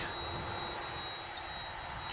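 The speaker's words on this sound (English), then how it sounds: "We've got a plane that's getting ready to be pushed back." Airplane at DFW International Airport getting ready for pushback, a steady broadband jet engine roar heard from a distance, with a thin constant whine and a brief click partway through.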